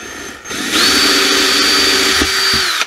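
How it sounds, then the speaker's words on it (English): A power drill bores through a PVC pipe and its cap while a crab trap float is built, the motor whining up loud and close and holding a steady pitch for about two seconds before stopping. "I'm going to come down just about a quarter inch"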